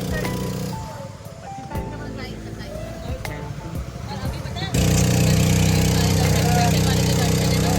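Voices chatter over rumbling movement on a river crossing by boat near Omkareshwar, then a loud, steady motorboat engine drone takes over and continues under the talk.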